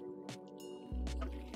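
Chicken gravy simmering in a covered pot, with soft bubbling, drips and squishy liquid pops at close range, a low rumbling boil building halfway through.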